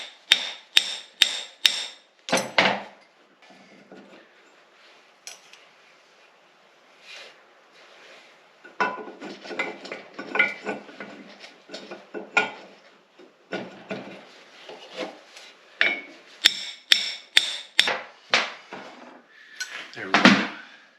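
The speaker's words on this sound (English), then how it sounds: "Got my hammer under here." A hammer strikes the bearing inner race during assembly of a LeTourneau Tournapull D diesel-electric motor and gearcase, with rapid sharp metallic blows at the start and end and a quieter stretch of scattered knocks and handling noise in between.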